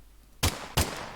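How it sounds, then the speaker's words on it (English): Two sharp, loud video-game gunshots fired from a weapon in an Unreal Engine 5 multiplayer third-person shooter, spaced about a third of a second apart, each a broadband crack with a low thump and a short tail. "we can now shoot"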